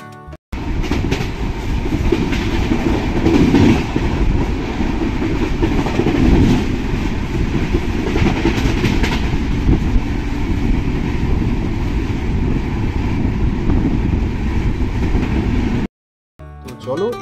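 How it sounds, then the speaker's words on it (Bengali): An Indian Railways passenger train on the Howrah to Ghatshila line runs at speed after leaving Jhargram, with a loud, continuous rumble and wheel clatter lasting about sixteen seconds before a brief drop to quiet. "ঝাড়গ্রাম ছাড়ার কিছুক্ষণের মধ্যেই ট্রেনের গতিবেগ ছিল ঠিক এই রকম।"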